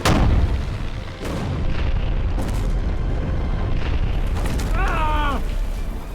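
Artillery guns firing in a D-Day war movie battle, a heavy boom at the start followed by further muffled blasts and rumbling, a short wavering whistle-like tone near the end.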